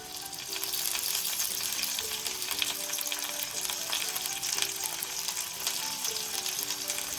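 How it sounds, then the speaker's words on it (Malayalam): Curry leaves sputter in hot oil while making squid roast, a dense continuous sizzle and crackle close up, with a faint tonal hum underneath. "കറിവേപ്പില എണ്ണക്കിടുമ്പോൾ പൊട്ടിത്തെറിക്കും"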